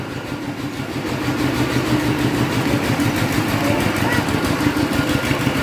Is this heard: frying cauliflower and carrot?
no